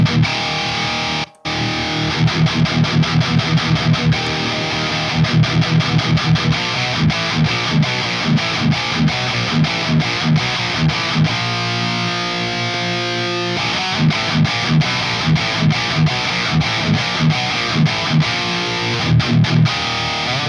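Heavily distorted, high-gain electric guitar through an amp capture, playing chugging palm-muted riffs with sustained chords, loud and dense, stopping briefly near the start.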